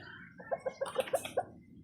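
A chicken clucking in a run of short, fairly quiet pulses, about seven in quick succession, over faint background noise with no talking.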